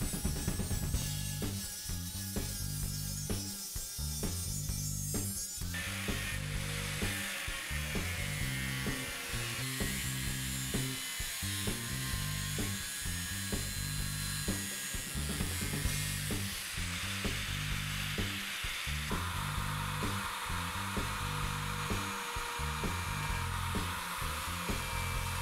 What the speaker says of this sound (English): Now I cut and drill this L-shaped metal angle that will act as a stop for the sander.